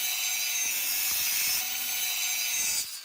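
A fire extinguisher's metal body is cut along a traced line, producing a steady, bright high-pitched grinding hiss with faint rhythmic scraping underneath, continuous for nearly three seconds and then easing off.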